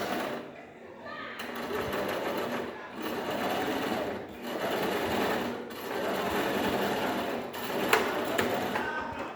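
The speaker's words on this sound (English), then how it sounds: "we're going to reverse the stitch, hold it in place, and we're going to keep the edge on the 5/8 mark while we stitch" A sewing machine stitches a seam in steady rapid bursts with brief pauses between runs, close and clear, while a person talks over it.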